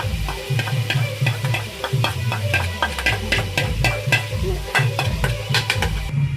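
Onion paste stirred and frying with masala in a pan for a chicken and wild greens bhaji, a steady close sizzle broken by regular scraping strokes of a spoon against the pan, with no talking.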